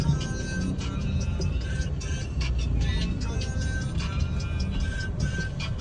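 A 2014 Hyundai Accent with a manual gearbox drives through light traffic, giving a steady, even rumble of engine and road noise throughout with no voices.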